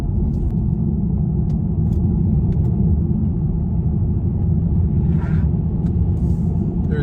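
A 2020 Genesis G70 2.0t AWD in sport mode gives a steady, loud low engine and road rumble from inside the cabin, holding an even level throughout with no clear revving.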